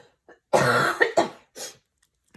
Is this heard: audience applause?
no